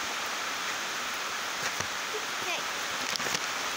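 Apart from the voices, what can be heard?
rain falling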